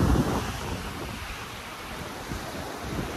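Sea waves roll in toward the shore at a beach, a continuous broadband wash of surf mixed with gusty wind buffeting the microphone, fairly steady and without any talk.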